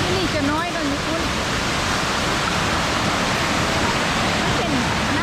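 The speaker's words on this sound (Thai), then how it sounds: "มันเป็นน้ำธรรมชาติตกลงมา" Roadside waterfall in Xaysomboun, Laos, pouring as a steady, loud broadband rush that fills the whole clip, with a few faint voice-like tones rising over the roar.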